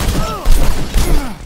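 Gunfire in the video game The Technomancer, a burst of several sharp shots and thuds over about a second and a half, close and loud, with a voice speaking briefly over it.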